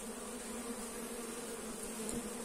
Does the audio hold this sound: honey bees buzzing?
yes